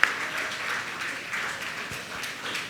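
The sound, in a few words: audience applause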